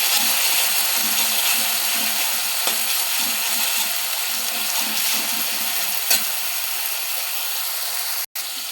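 Garlic paste frying and being stirred in a pan for a jackfruit and prawn curry, a steady close sizzle with faint scraping of the spoon and a couple of sharp clicks.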